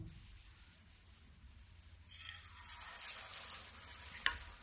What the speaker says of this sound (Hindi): अब इसको उठा के मैं तेल में डाल दूंगी।